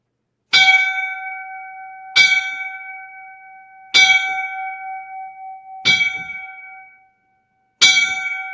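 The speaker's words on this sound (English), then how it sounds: "we're going to give 5 bells for World Trade Center" Five clear, ringing bell strikes at about two-second intervals honor a fallen World Trade Center firefighter lieutenant, each tone lingering and fading before the next, with no voices.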